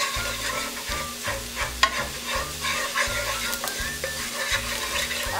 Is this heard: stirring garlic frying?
yes